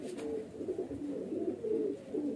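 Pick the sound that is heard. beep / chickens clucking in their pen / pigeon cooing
pigeon cooing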